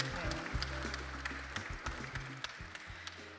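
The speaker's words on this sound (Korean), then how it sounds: "여러분 다시 한번 박수를 부탁드리겠습니다" Audience applause follows a lecture at a World Peace Day ceremony, light scattered clapping under a low hum and some background voices, fairly faint and short.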